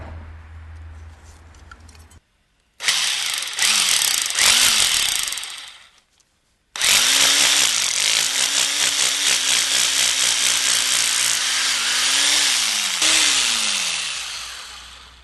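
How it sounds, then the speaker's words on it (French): Rotary hammer drilling into a wall to mount a video intercom: two loud, close bursts of rattling drilling, a short one then a longer sustained run, with the motor pitch sagging and rising under load and brief quiet gaps between. "je trace avant de percer au perforateur"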